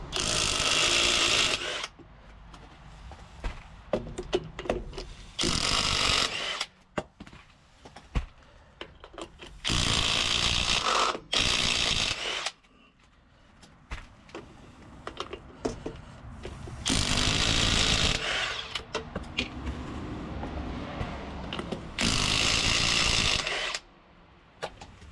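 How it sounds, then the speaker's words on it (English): An impact wrench with a 21mm socket spinning lug nuts off the rear dually wheel of a 2000 Ford F350 Super Duty 7.3L, loud repeated whirring bursts separated by quieter pauses and handling clatter, with no talking. "on our impact and just spin the lug nuts off."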